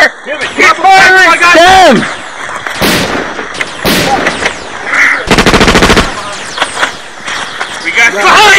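Rapid machine-gun bursts and gunshots fill a war-drama battle scene, loud and close. Sustained automatic fire comes through the middle, while shouting voices and explosive cracks overlap throughout.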